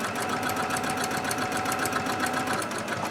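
Close, steady whirring of a sewing machine stitching along the side seam of a dachshund-themed tote bag, a fast even run of stitches without pause.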